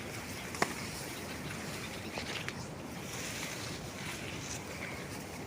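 Irrigation water rushes and gurgles steadily into a pearl millet field, a soft, even wash of flow heard outdoors with light wind buffeting and a couple of faint knocks.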